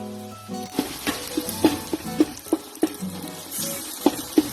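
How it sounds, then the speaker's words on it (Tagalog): Onions simmering with peeled Italian sausage for Zuppa Toscana, a soft sizzle with regular sharp taps of a spoon against the pot, close by, over a low background hum. "she's simmering the onions and the other ingredients there with the Italian sausage"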